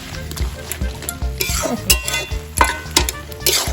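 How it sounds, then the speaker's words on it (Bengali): Cabbage curry with chillies is stirred and sautéed in a pan, with repeated close scraping and clanking of a spatula over a soft sizzle. "লঙ্কা দিয়ে আমাদের ভালো করে ফুটিয়ে নিচ্ছি কষিয়ে নিচ্ছি"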